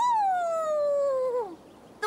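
A wolf howls in a video game set around a Viking village, one long descending wail that holds steady, then slides down and fades, with a faint click at the very end.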